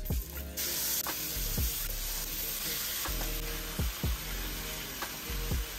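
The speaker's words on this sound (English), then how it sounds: "If you have chicken thighs with skin, put them skin down." Skin-on chicken thighs fry skin-side down in a pan, giving a steady loud sizzle with periodic thuds and scrapes of stirring or shifting, no voices.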